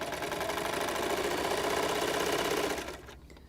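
A sewing machine stitches skirt pieces in a steady, fast, continuous whir for about three seconds, then stops abruptly, leaving near silence.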